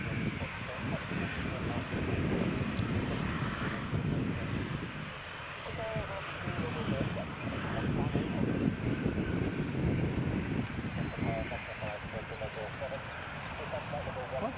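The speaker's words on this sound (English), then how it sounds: "There's a Ryanair Max, our first properly based Max 8 200." A Ryanair Boeing 737 Max 8-200 jet roars steadily at Newcastle Airport in crosswind conditions, a broad sustained engine rumble at moderate distance that swells and eases, with people talking over it.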